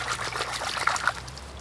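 A freshly cleaned river trout rinsed in flowing river water, a soft close trickle and splash of water with a couple of small brief sloshes, fairly quiet.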